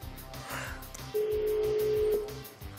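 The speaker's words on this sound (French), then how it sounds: "Ça sonne." A telephone call connects, with a steady ring tone sounding for about a second over faint, choppy line noise.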